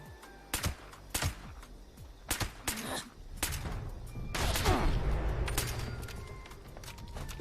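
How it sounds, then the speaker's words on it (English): Sharp gunshots in Fallout 76 ring out singly and in quick pairs, fairly close, followed by a louder cluster and a rumbling tail. "I was trying to shoot his little kneecap."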